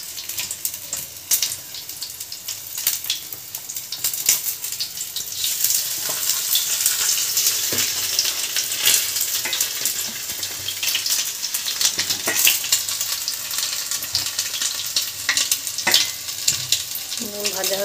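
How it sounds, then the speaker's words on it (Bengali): Chicken kathi kebabs fry in hot oil, giving a steady, bright sizzle with crackling pops throughout, close and moderately loud, with occasional soft handling sounds. "ভাজা হচ্ছে"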